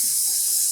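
Tap water runs steadily into a pot being half-filled for dyeing yarn at home, a constant close hiss and splash with no pauses and no voices.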